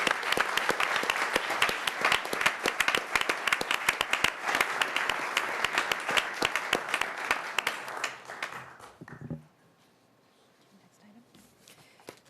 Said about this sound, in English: And I'd like to give Folsom PD a big round of applause.